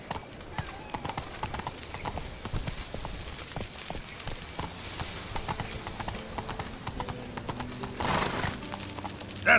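Roach the horse gallops in The Witcher video game, rapid steady clip-clop hoofbeats close by throughout, with a brief rise near the end.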